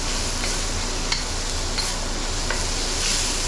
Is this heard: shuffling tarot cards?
no